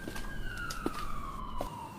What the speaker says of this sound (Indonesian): Itu kok ada suara sirine ambulans